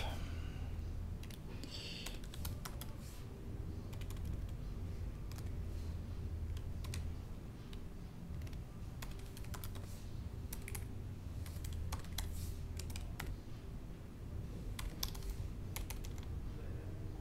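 Typing on a computer keyboard while coding PHP and SQL, a run of quiet close key clicks in irregular bursts over a soft steady background hum, no speech.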